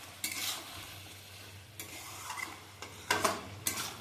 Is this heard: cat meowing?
no